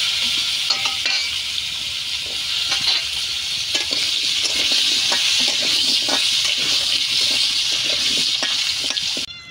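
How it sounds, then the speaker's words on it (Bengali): Potatoes fry in hot oil with a steady, close hiss and sizzle, joined by occasional stirring clinks and scrapes. "এখন আলুগুলো ভেজে নেব।"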